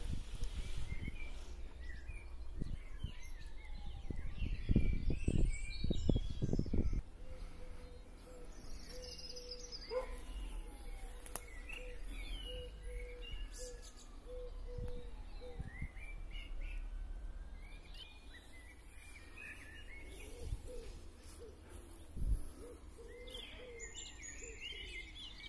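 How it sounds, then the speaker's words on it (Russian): Birds chirp and sing steadily throughout in an English cemetery, scattered calls near and far over a soft outdoor background, with a brief low rumble of movement early on. "И птицы ему поют."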